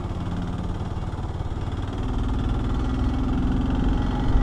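A motorcycle engine drones steadily while riding uphill on a mountain road in Mindanao, a continuous low hum that grows slightly louder and heavier partway through, with no talk.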